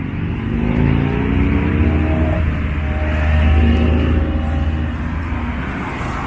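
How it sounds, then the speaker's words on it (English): Engine rumble of cars rolling into a car show nearby, a steady low drone with shifting tones and a passing swell, no talking. "You can hear more cars coming into this event."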